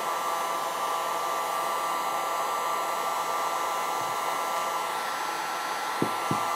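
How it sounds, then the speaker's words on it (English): A heat gun blows steadily and loudly at close range to warm a pistol barrel treated with Froglube, a constant airy roar that runs the whole time, with two small knocks near the end. "But be careful if you're using a heat gun."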